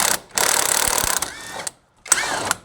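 A ratchet wrench clicks in rapid runs while loosening a bolt under the fender of a wrecked GMC Sierra Z71 truck, two close, bright bursts separated by a brief pause.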